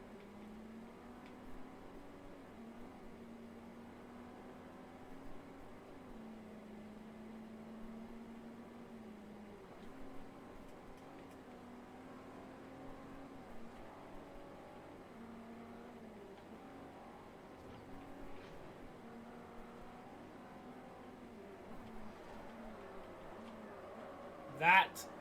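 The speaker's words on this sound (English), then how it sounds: "I want you to just listen to the GTR." A Nissan GT-R engine in Forza Horizon drones at low volume, its pitch rising and falling through gear shifts over a long stretch, with a sharp click near the end.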